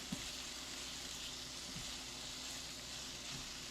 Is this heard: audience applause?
no